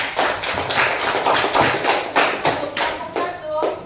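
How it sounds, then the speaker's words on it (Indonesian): Classroom students clap together for a group after its presentation, a dense burst of close, overlapping hand claps with a fast, uneven rhythm that holds strong for about four seconds. "Oke, tepuk tangan buat kelompok 2."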